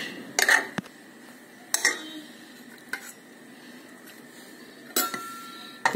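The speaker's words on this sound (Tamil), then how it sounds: "இது மாதிரி இந்த சாதத்தை நல்லா குக்கர்ல வச்சு கரண்டி வச்சு நல்லா மசிச்சுக்கணும் தயிர் சாதத்துக்கு" Ladle mashing cooked rice inside a pressure cooker for curd rice, a few sharp metallic clinks and knocks spaced irregularly over quiet background, close by.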